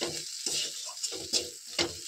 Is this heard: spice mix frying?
yes